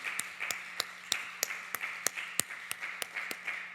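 A church congregation at a Wednesday evening service claps in an even, steady rhythm, about three beats per second, moderately faint and with no talking over it.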